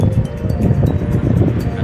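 Strong wind on a beach in Pinamungajan, Cebu buffets the microphone with a steady, loud low rumble that surges and dips unevenly.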